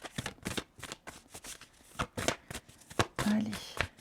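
Tarot cards shuffled by hand in quick bursts of riffling and flicking, close and crisp, with a voice speaking between the shuffles.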